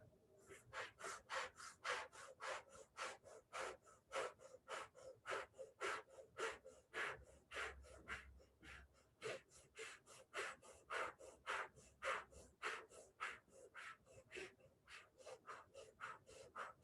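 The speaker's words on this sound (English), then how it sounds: "So do a breath of fire, like panting like a dog" Rapid rhythmic panting breaths in a breath of fire exercise during a breathing class, sharp forceful exhalations repeating quickly and evenly like a panting dog, close and clear throughout.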